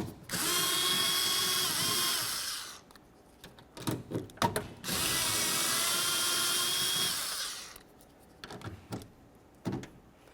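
A power drill spins off the 10mm mounting nuts on the driver side mirror of a 2004-2006 Scion xB. There are two sustained high whirring runs with clicks and clatter between them, close up and with no talking.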